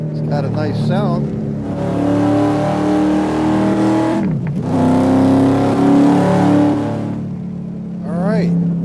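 A car engine revs hard and close, holding a strong rising drone, dipping sharply midway and then climbing again before settling back. Brief squealing tones come in at the start and at the end. The car is at an OZA Motorsports session.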